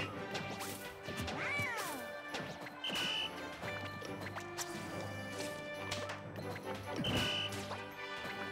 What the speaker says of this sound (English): Here are the smash attacks.